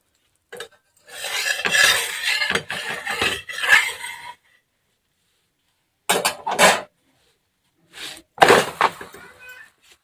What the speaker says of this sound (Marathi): आता या भाकरला आपण पलटी करून घेऊ